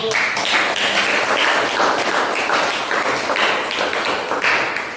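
Scattered clapping from a small classroom group during a lesson on Islamic cultural history, a steady patter of hand claps lasting the whole stretch at moderate loudness.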